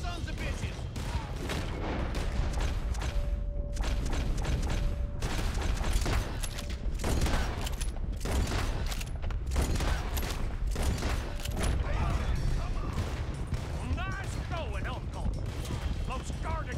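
A heavy Red Dead Redemption 2 shootout, rapid overlapping gunshots cracking almost continuously, loud and close, with a voice talking over the fire.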